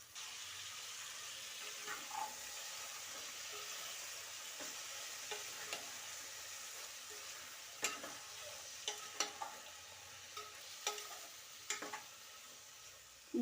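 Eggplant, onion and finely chopped tomato sizzle softly in a pan while a spoon stirs them, with gentle scraping clicks over a steady low frying hiss, close and fairly quiet.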